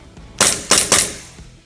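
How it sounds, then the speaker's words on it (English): Three crisp, sharp shots from a Poseidon Orion gel blaster pistol, fired close up in quick succession, each with a short decaying tail, no talk. "So when you're shooting it, you will notice really crispy."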